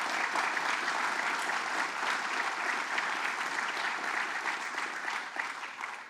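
A rally crowd gathered for paid family leave in the Hudson Valley claps steadily, a dense, sustained wash of applause that stays loud and even throughout and only eases slightly at the end.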